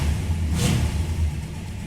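A 1966 Dodge Coronet's engine idles in a low, steady rumble close by, with a brief swell partway through and no voices over it.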